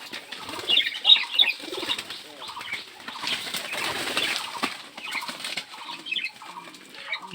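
Bursts of frightened pigeons flapping their wings in a pigeon farm, close and loud, in repeated flurries with soft cooing in between.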